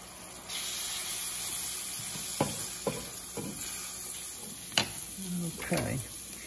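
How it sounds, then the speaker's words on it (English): Chorizo and chopped onion cook in a pan on the stove with a continuous sizzle, broken by several sharp knocks and scrapes of a utensil against the pan. "I'm gonna bring this over to the stove and I'm gonna fully cook it."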